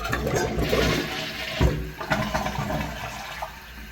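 An American Standard Cadet Pro 1.28 gallon toilet with a 3-inch flapper flushes close by, a rushing swirl of water with a short surge in the middle, then gurgling as the bowl drains and the tank refills.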